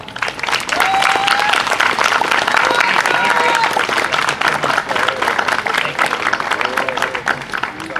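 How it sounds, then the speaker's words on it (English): Steady applause from an audience at a Flag Day ceremony, loud and sustained throughout, with a few faint voices mixed into the clapping. "I'd like everybody to give a good round of applause to Mr. Frederick Purdy, our former Township"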